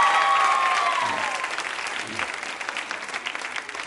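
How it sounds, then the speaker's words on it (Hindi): Studio audience at a women's quiz show breaks into applause, a burst of clapping that starts loud with a faint tonal sound at the onset, then thins gradually over a few seconds. "तालियां बजाइए मैम की जानकारी के लिए"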